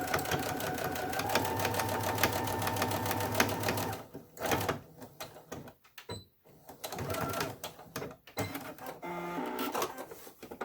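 A sewing machine stitches across the top of a fabric face mask, running loud and steady with a rapid needle chatter for several seconds, then stopping and restarting in shorter bursts.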